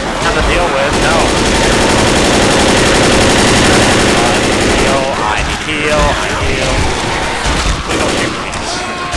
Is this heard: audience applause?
no